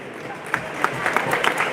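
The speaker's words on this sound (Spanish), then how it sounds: "aplaude la gente de Unión, que hoy consigue sus primeros 3 puntos en este torneo" Unión de Ezpeleta fans applaud after a futsal win over All Boys in AFA Primera C, scattered claps from a crowd at moderate distance with an announcer talking over them.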